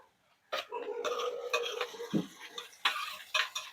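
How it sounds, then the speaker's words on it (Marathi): Garlic, ginger and green chilli paste being sautéed with onion in a pan for anda tawa masala, with a spatula stirring and scraping in several close, uneven strokes and a soft background hiss, no voices. "त्याला टाकून चांगलं भाजून घ्यायचं आहे"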